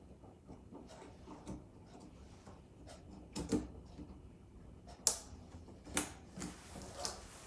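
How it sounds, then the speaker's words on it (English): Several sharp mechanical clicks and knocks of a latch spaced a second or so apart against a quiet room, the loudest snapping into place near the middle. "Made this little clicking sound."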